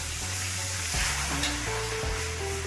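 Milk goes into hot caramel in a pan on a now-switched-off stove, producing a steady bubbling sizzle with some stirring noise, fairly loud and continuous, with no speech.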